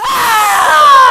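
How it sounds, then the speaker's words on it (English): A man's single loud, long scream of despair, high and strained, rising slightly as it holds for about a second, close and alone. "the agony of my soul found vent in one loud, long, and final scream of despair"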